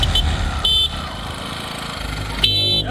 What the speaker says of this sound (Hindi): अभी हम हॉर्न मारे छी